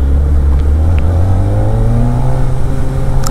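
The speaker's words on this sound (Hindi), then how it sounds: "इतना स्मूथली रेव होता है कि मतलब इंजन भी रिफाइंड है इतना पावर होने के बावजूद" Kawasaki Ninja ZX-4RR motorcycle engine revving smoothly, a loud, steady high-pitched drone that climbs gradually, heard close up with no talking.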